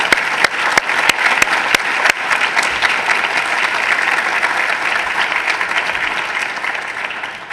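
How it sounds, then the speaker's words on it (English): A lecture audience gives a loud round of applause, opening with a few sharp distinct claps that swell into steady, dense clapping, filling the hall and tapering slightly toward the end. "Will you join me in giving them a round of applause?"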